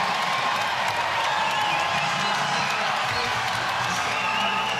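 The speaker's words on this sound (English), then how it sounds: "they have gotten this crowd into it as well" A crowd cheers and claps at a BYU Cougars women's volleyball match against Houston, a loud, dense, sustained roar of voices and applause filling the arena.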